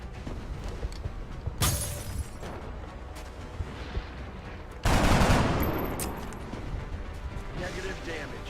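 Gunfire from a flank shot in XCOM: Enemy Within: a sharp burst of shots cracks out, then a much heavier blast follows and slowly fades into a rumbling combat bed, with talk running beneath it.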